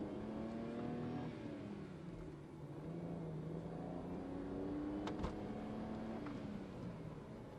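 A BMW 135i E82 engine hums steadily while driving, its pitch rising and falling gently with the throttle, heard from inside the car.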